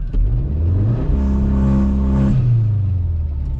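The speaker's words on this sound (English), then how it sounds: "listen to the sound difference of launch control" An Audi S3 (8Y) engine revs up under launch control and holds near 4,000 RPM, a loud, steady mid-pitched roar with rising harmonics that climbs, sustains for about a second, then eases back to a rumbling idle.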